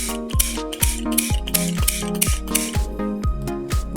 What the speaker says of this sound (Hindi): लाइटर को कुछ इस तरह से स्क्रीन पे रख के स्पार्क करना है आपको